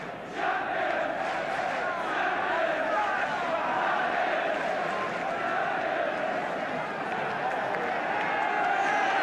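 Large football crowd at a Manchester United match roaring and cheering in a sustained, dense wall of noise that swells slightly, heard from a distance with no clear individual voices.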